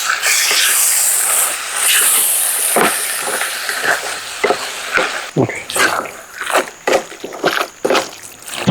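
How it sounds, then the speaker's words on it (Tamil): Cut mutton pieces sizzle and hiss loudly in a hot pan, with a steady frying roar at first, then repeated scraping stir strokes breaking up the sizzle in an irregular rhythm. "துண்டு துண்டாக வெட்டி வச்ச மட்டனையும் சேர்த்துருவோம். மட்டனையும் நல்லா மிக்ஸ் பண்ணிவிடுவோம்."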